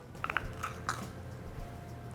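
Teeth bite into a sweet potato casserole topped with marshmallow and pecans, giving a few crisp, close crunches in quick succession, then quieter chewing against faint room noise.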